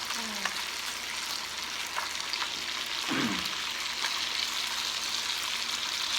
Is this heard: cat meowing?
no